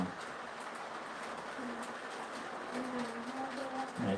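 Model train engine running on track, a steady faint rumbling mechanical whir with soft periodic tones rising and falling, no talking over it.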